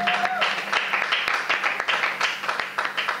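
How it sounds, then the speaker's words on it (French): Women in an audience at a youth association event clap for performers, with scattered, uneven handclaps in bursts that start after a brief tone and carry on through the clip, with voices mixed in. "Les femmes, est-ce que vous pouvez applaudir pour elles?"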